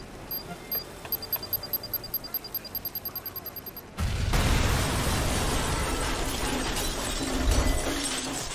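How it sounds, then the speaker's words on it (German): Explosions in the video game Watch Dogs: after a short run of soft rhythmic ticking with high beeps, a sudden loud blast gives way to a sustained roaring rumble of fire and debris that swells again near the end. "Explodiert schon wieder alles."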